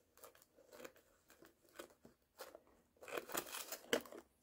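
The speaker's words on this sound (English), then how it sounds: "Take some scissors." Scissors snipping through material while making a rocking horse ornament, a series of soft, close crisp cuts in uneven rhythm that grow busier and crinkly toward the end, with no talking.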